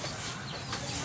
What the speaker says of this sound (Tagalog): Pagpakain na siya ng mga manok niya.